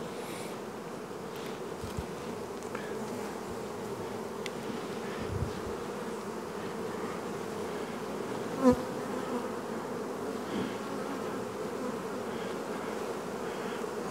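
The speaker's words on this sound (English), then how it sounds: "Lots of bees." Many honeybees buzzing around an open hive in an apiary yard in spring, a steady dense drone close to the microphone, with a few brief knocks and no talking.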